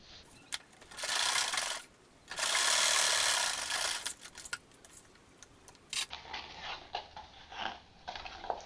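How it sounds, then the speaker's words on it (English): Sewing machine stitching the raw edges of a folded fabric bag with a narrow 1/8-inch seam allowance: two sustained whirring runs up close, followed by lighter intermittent mechanical clicks. "I will sew at the raw edges with 1/8 seam allowance"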